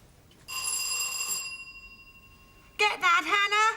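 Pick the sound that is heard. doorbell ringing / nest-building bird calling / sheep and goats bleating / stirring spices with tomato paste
doorbell ringing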